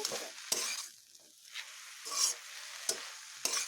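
Arum leaves stirred and frying in hot oil in a pan, a steady close sizzle broken by several sharp scraping strokes of the spoon at irregular intervals, with no one speaking.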